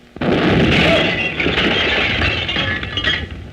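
Field artillery fire from guns pointed the wrong way, a loud sustained rumbling blast with crackling bursts that rolls on for several seconds, alone without speech.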